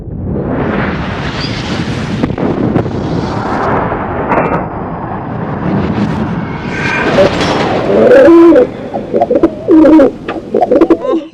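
Madrasi pigeons coo repeatedly in low, throaty bursts, with several birds overlapping close by in a loft amid rustling and light wind buffeting.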